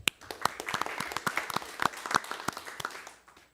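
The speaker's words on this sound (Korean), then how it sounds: "그리고 박수 한번 부탁드립니다" Applause from the audience at a Korean political commentators' association debate forum on election law reform, a sparse scatter of individual hand claps that thickens briefly, then thins out and fades to quiet by the end.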